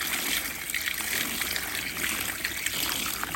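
Peppers being washed under running water, a continuous close trickle and splash of water with faint handling sounds throughout.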